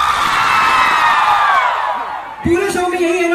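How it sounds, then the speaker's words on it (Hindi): A concert crowd at Dudhnoi, Assam shouts together in one loud, sustained burst of yelling and cheering that fades briefly before a held, tonal note takes over. "अब एक बार साथ में चिल्ला के दिखाओ"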